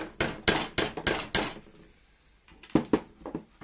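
Light hammer taps pushing a small magnet into a drilled hole in a plastic miniature, five quick sharp knocks in a row, a pause, then three more taps, close and unaccompanied by talk.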